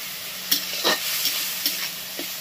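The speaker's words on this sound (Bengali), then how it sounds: "যেমন মশলা কষায় ঝিঙেটা এবার কষিয়ে নেব।" Ridge gourd sautéed with spice paste in a pan, a steady close sizzle broken by a few soft scraping stirs of a spatula against the pan.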